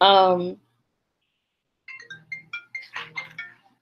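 A phone rings with an incoming call during a live question-and-answer stream: a short loud melodic tone, a pause, then a rapid series of chiming ringtone notes, heard alone without talk.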